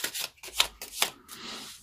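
Tarot cards are shuffled in quick bursts of crisp riffling and flicking, close to the microphone, with no speech.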